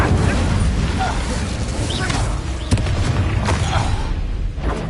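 In the Hogwarts Legacy video game, an Incendio fire spell blasts loudly in the middle of combat, a dense roaring burst amid other battle effects, with character voices heard through it.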